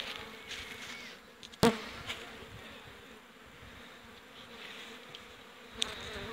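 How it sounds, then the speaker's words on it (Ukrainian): Bees buzz softly around the listener in a steady, faint hum, with a couple of sharp knocks and clicks breaking through. "Пчелки літають, я їм трошки заважаю"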